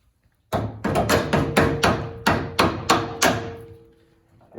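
Hammer blows driving a set pin into the kingpin of a 1930 Ford Model A spindle: about eight sharp metallic strikes in a steady rhythm, close and loud, with a faint ringing tone lingering after the last hits.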